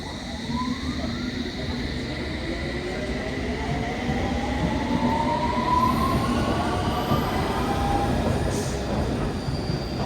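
A London Underground tube train running through a tunnel, a loud continuous rumble with rising and falling wheel squeal and faint rhythmic clatter throughout.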